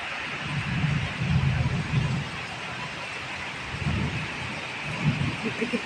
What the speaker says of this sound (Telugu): ఉరుములు అయితే పెద్ద పెద్ద ఉరుములు వేస్తుందండి. చాలా పెద్ద వర్షం పడుతుంది.